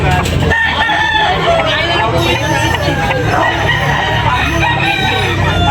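Gamecocks crow repeatedly and cluck in a busy cockfighting-derby setting, with several roosters calling from near and far over a continuous murmur of crowd babble and voices talking.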